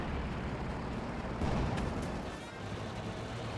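Explosions from a strafing run in the World War II strategy game Company of Heroes 2, a dense continuous rumble of blasts and gunfire with a sharper burst midway, heard alone.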